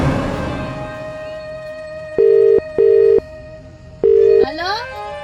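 A telephone call rings out: faint background murmur gives way to three clear electronic ring tones, two close together and one after a pause, sounding close and loud.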